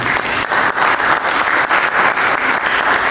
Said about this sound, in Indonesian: Mari berikan tepuk tangan bagi Yesus.